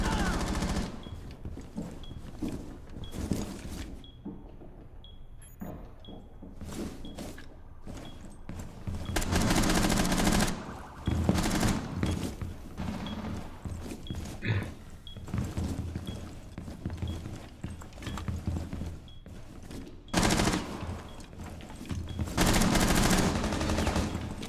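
Rapid automatic gunfire and scattered shots from the tactical shooter game Rainbow Six Siege, loud and dense with bursts through most of the stretch, short lulls between volleys and faint voices now and then.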